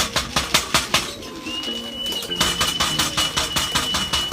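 Pigeons arrive at a loft in San Pedro, Laguna. They give soft, repeated coos and flap their wings in quick, rhythmic bursts, and a faint engine hums in the background.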